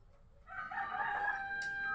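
A rooster crows once, fairly close and clear, its drawn-out call rising and holding before trailing off, with quiet background otherwise.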